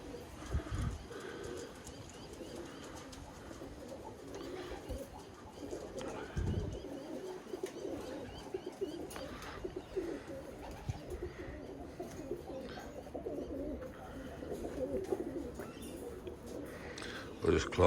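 Birmingham Roller pigeons coo softly in a loft with kit boxes, low repeated throaty calls scattered through the scene, while someone talks over them at intervals.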